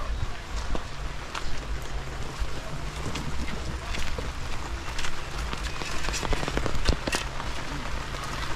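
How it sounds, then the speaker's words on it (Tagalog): Heavy rain pours steadily outdoors, a dense continuous hiss with scattered sharper drops and some wind buffeting the microphone, with no talk. "Pumalakas ng ulan."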